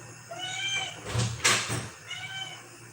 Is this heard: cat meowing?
yes